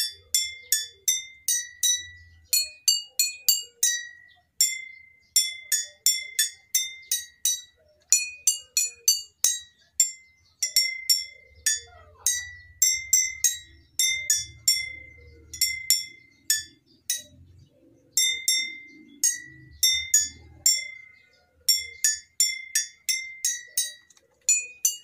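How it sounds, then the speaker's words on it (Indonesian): A song of quick, ringing taps on glass bottles filled with different water levels, notes in steady melodic rhythm with brief pauses between phrases, close and clear, with a faint low hum in the background. "Saya akan mempertunjukkan sebuah lagu kepada kalian untuk lebih jelas mengenai frekuensi nada yang terdapat dalam masing-masing botol ini."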